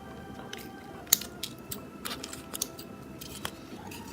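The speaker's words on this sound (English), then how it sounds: "If you have any excess over here, you could just trim it so it's nice and neat" Scissors snip excess material off a handmade doll crib, a few quiet, close cuts and small clicks spaced irregularly over a few seconds with no talking.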